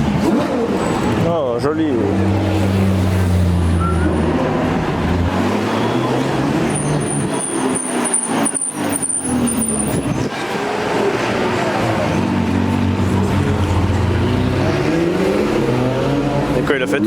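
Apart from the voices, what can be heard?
Italian supercar V8 engine revving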